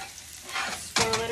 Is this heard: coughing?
no